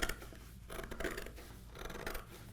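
Scissors cut an oil painting off its wooden stretcher, giving a few scratchy rasping snips close by in a quiet room.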